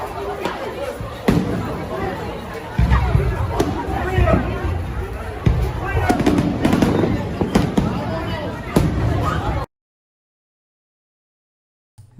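Fireworks bursting over Lake Eola in Orlando, a string of booms and crackles over a steady crowd hubbub, loud and close, cutting off abruptly near the end.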